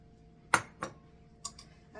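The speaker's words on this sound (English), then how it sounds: "I'm going to mix this up until it's all blended." Several separate spoon clinks against a bowl as oats are mixed for no-bake peanut butter chocolate oat cookies, sharp and close, spaced apart with quiet between them.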